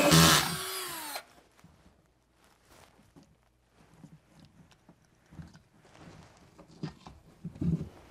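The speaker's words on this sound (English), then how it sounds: "And now we have our hole saw, which we can attach to our drill." A hole saw on a power drill cuts into a wall for a TV mount in a loud, whining burst lasting about a second, then stops, followed by quiet scattered knocks and handling noises.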